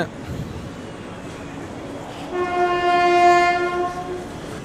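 An express train (17249 Kakinada Town Express) rumbles into a station, then a loud sustained horn blares over the rolling noise of the carriages, close by.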